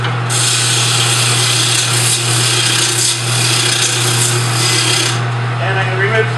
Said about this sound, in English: I can use my gouge flat or on an angle,